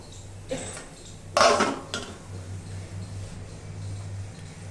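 A metal lid clanks onto a pan of simmering chicken korma, a couple of brief sharp knocks and a clatter, close and fairly loud, followed by a low steady hum of cooking.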